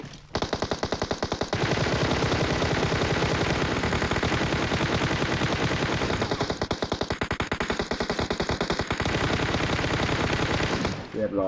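Sustained automatic gunfire in PUBG Mobile, a fast even stream of loud close shots running almost the whole stretch, with brief pauses near the start and end.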